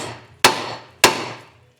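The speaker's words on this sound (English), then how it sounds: "grabbed a great big hammer and give the drums a bit of a clap" Two loud metallic strikes of a big hammer on a car's brake drums about half a second apart, each ringing out and decaying, close up with no talking.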